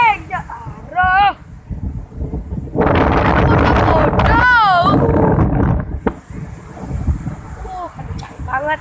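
Strong wind gusts roar across the microphone in heavy, sustained bursts, with excited voices and high squeals cutting in over the rushing noise.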